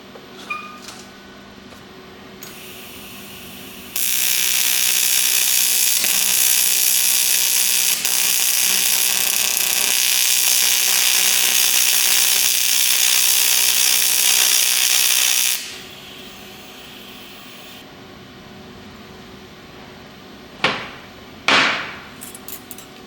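An aluminum TIG weld runs as a steady, loud electric hiss and buzz for about twelve seconds, set up with a bit more shielding gas and extra cleaning action. It then cuts off, and a few sharp knocks follow.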